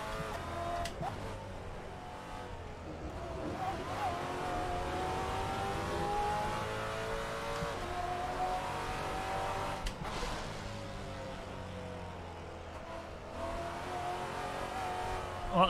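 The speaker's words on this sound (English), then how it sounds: "the car sounds like it's putting down more power than it actually is" A race car's engine in the Assetto Corsa driving game revs and pulls hard through the gears on a crowded online server, with repeated rising and falling tones, brief shift dips and some tire squeal, loud and steady throughout.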